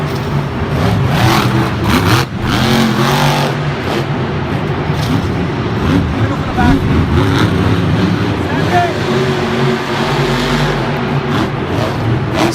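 A monster truck engine revs hard during a Monster Jam freestyle run at a stadium event in Miami, a loud sustained roar with rising and falling throttle under crowd and announcer noise.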